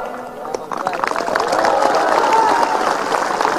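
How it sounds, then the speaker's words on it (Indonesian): A lecture audience at a religious talk in Riau breaks into applause, a broad, steady wash of clapping that swells after the first second and holds fairly loud with crowd murmur mixed in. "Tengok orang ini ragu-ragu tepuk tangan."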